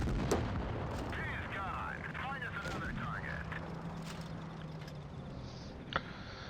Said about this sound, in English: it's just one shot after another with this tank